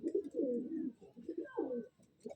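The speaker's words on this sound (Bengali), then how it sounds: "ফার্স্ট যে পেয়ারটা দেখালাম নর পায়রা" A two-year-old male Madrasi pigeon coos softly and close by, a few low rolling coos repeating in quick succession.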